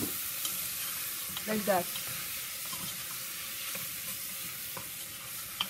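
Shrimp frying in a pan for shrimp sauce, a steady soft sizzle with a few brief stirring clatters and a short spoken remark partway through.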